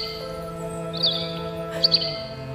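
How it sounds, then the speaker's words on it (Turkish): A white swallow chirps in two short bright bursts over a steady tonal background hum, with no speech. "Ak kırlangıç geldi anne."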